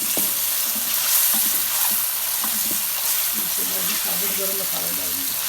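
Garlic-ginger paste fries in a pan for qeema karahi with a constant loud sizzle, the hiss broken by soft scraping as it is stirred. Faint voices murmur underneath toward the end.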